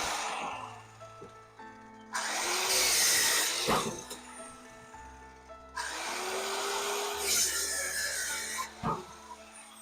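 A circular saw cuts through wood in two separate passes, each a loud burst of rough, rasping cutting. Between the cuts the motor whines more quietly as it spins up and winds down.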